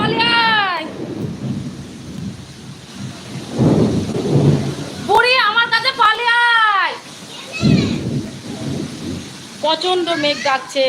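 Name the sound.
loud thunder and heavy rain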